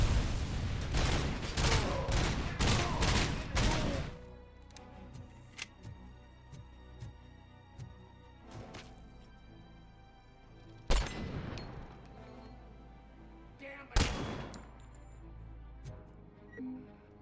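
A rapid volley of sniper rifle shots from the game RoboCop: Rogue City cracks out first. Two heavy single shots follow later, spaced apart over a steady game soundtrack.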